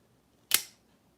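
A single sharp mechanical snap of an automatic knife blade springing open, close and crisp, with a brief metallic tail in otherwise near silence.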